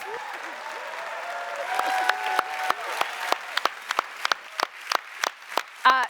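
Applause at a demo day event, starting as a diffuse wash and thinning into separate claps that grow sparser and more distinct, fading toward a few isolated hand claps.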